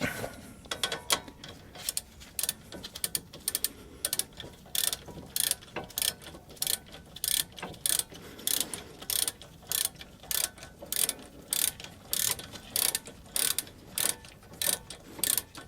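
A ratchet turns 18 mm front brake bolts held with thread locker on a GM 1500 SUV, clicking in rapid rhythmic bursts of pawl ticks, close and steady throughout.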